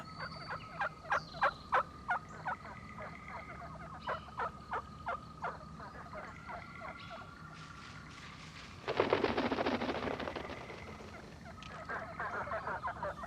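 Wild turkeys at their roost give rapid, rattling gobbles in repeated bursts, close and clear, followed by a loud rushing, rustling burst and further calling.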